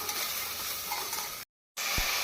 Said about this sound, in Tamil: பூண்டும் வெங்காயமும் பொன்னிறமாக வதங்கவும் நாம் நறுக்கியுள்ள தக்காளி பழத்தை சேர்த்து கொள்ளலாம்